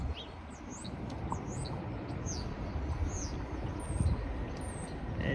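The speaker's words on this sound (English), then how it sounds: "now I'm hearing the birds singing" Small birds chirp and sing in short, high, repeated phrases during a February walk near Finch West in Toronto, fairly close and clear over a constant outdoor traffic rumble.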